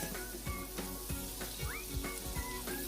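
A small piece of butter melts in a hot pan, giving a close, steady sizzle with irregular pops and soft utensil taps over a few seconds, and no talking.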